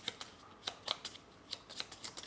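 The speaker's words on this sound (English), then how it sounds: "We'll shuffle these up." A deck of game cards for the board game Aeon Trespass Odyssey being shuffled, a quiet run of crisp riffling flicks and snaps close by with no talk.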